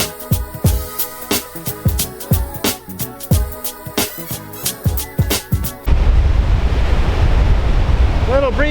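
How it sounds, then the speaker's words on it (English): Wind gusts and surf wash over a beach at low tide, the breeze buffeting the microphone as a broad roar that fills the last few seconds after a stretch of other sound. "A little breezy today at the beach"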